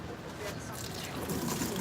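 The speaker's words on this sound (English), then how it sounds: "Now I'm going to rinse them with nice hot water." Hot tap water runs and splashes while something is rinsed under it at a campsite, a moderate trickling rush with a faint voice in the background.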